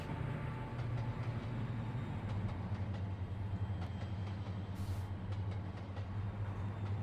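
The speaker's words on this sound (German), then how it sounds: "ich bin ja froh, dass der Zug überhaupt so schnell gefahren ist" A Northern Pacific train runs steadily along the Lookout Pass line in the simulator game Trainz: A New Era, with a continuous low rumble and faint rhythmic track clicks throughout and no voices.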